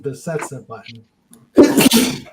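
A person sneezes loudly and abruptly after a short stretch of talking, a sharp burst following a brief pause, with speech before it.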